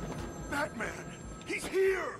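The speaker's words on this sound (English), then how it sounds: "Let's go find the ringing phone." A telephone ringing inside the video game Arkham City, a faint repeated bell tone under someone talking over game sounds.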